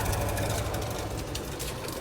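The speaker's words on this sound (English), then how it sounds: "Thank you, Mr. Loud Air Conditioner." A loud air conditioner runs outside during a car wash on wet ground, its steady mechanical hum and rattle holding constant and close throughout, with no talk over it.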